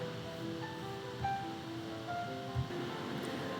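Ocean surf near a small, quiet resort bar beside a family jacuzzi area at Hotel Marina El Cid, a steady, soft wash of waves with a couple of brief low thumps and faint tonal background sounds.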